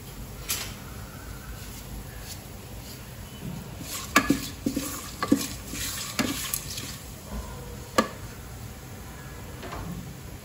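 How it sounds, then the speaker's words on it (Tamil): Spices frying lightly in a home kitchen pan, a quiet, steady sizzle with scattered stirring scrapes and a few sharp clinks of utensils against the pan. "இது வந்து லைட்டாக ஃப்ரை ஆகட்டும்"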